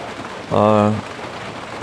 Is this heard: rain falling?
yes